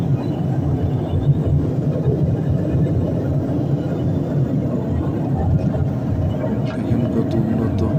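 Inside the cabin of a US-Bangla Airlines airliner cruising above the clouds on a Dhaka to Jeddah flight, a steady, loud low engine rumble drones on continuously while voices talk faintly in the background.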